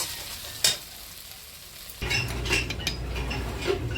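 Fish fat frying in oil in a pan, a steady close sizzle with a sharp metallic clank near the start, then louder spattering, crackling and utensil scrapes as the pan is stirred.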